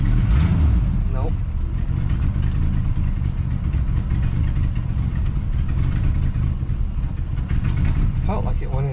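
A car engine with a freshly reconnected transmission runs in a low, rough rumble, then stalls out; voices talk over it.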